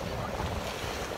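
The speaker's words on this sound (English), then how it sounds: "It probably sounds really windy to you guys" Wind blows hard across a cloudy beach, a dense rushing roar with buffeting against the microphone, loud and unbroken for a moment with no voices.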